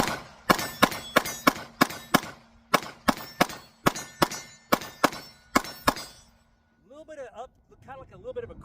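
A Glock pistol fired from an AR-style chassis sends rounds into steel targets downrange, producing a string of about a dozen sharp ringing clangs in an uneven rhythm, followed by a brief spoken voice.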